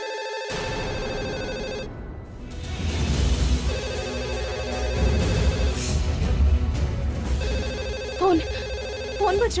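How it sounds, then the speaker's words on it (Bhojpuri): A telephone rings indoors in a domestic drama scene, its steady electronic ringtone repeating through most of the stretch over a constant tonal music bed. "फोन बज रहा बा।"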